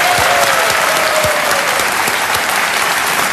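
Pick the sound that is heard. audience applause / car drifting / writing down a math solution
audience applause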